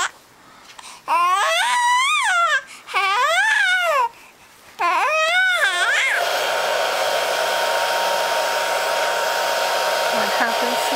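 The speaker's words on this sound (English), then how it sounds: "Crying happens." A baby cries in three loud wailing bursts with short pauses between them, then a hair dryer switches on and roars steadily while the crying stops.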